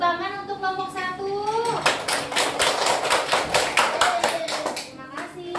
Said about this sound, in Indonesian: Ayo, tepuk tangan untuk kelompok 1.